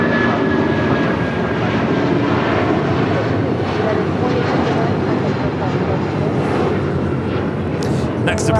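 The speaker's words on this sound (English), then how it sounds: "Next departure is American Airlines in the flagship Valor livery, heading to Cabo in an A321" An American Airlines Airbus A321 in flagship Valor livery departs Los Angeles International, its loud, continuous jet roar filling the scene while radio chatter and voices run over it.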